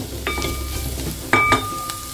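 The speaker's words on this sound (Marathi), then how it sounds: "आता यामध्ये उकडलेले काळे वाटाणे आणि उकडलेल्या फणसाच्या बिया घालायच्या आहेत. ह्या उकडलेल्या आहेत तरी सुद्धा आधीच परतून घ्यायच्या आहेत." Boiled black peas and jackfruit seeds being sautéed in a pan, a soft sizzle with a couple of brief stirring scrapes, close by.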